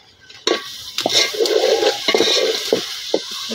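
Onion masala frying in a pan: spatula stirs and scrapes come in sharp bursts over a bubbling sizzle that starts suddenly and then holds at a fairly loud level.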